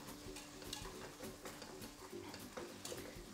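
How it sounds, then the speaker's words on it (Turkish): Steady scraping and swishing of a whisk stirring chicken broth soup in a pot, continuous and close, with a faint sizzle underneath and no talking. "Çırpma teliyle karıştırıyorum."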